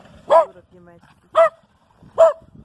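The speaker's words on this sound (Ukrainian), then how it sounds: "Чого ти гавкаєш?" A dog barks three times in short, evenly spaced, loud, close barks, with faint low sounds between them.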